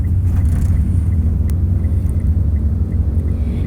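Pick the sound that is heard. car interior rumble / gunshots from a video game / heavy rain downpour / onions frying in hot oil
car interior rumble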